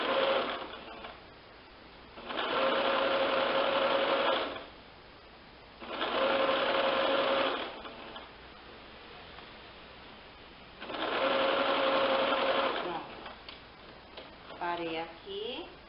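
Sewing machine stitching an envelope-style cushion cover in three close, steady whirring bursts of a couple of seconds each, with someone talking in the pauses between runs.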